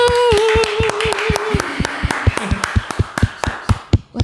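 Studio audience at an RRI Palu live music session clapping for a band: a steady run of sharp, evenly spaced claps, close and fairly loud, with a fading ringing tone under the first second or so.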